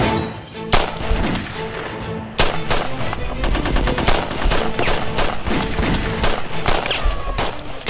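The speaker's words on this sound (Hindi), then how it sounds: "फायरिंग करो, फायरिंग।" Dense, continuous gunfire and rapid machine-gun bursts from a TV drama battle scene, loud and relentless with overlapping shots and a brief lull before the firing surges again.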